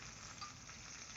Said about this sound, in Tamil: இப்போ கடுகு, உளுத்தம்பருப்பு, கடலைப்பருப்பு 3 ஒரு ஸ்பூன் போட்டு இந்த கடுகு நல்லா வெடிக்க விடுங்க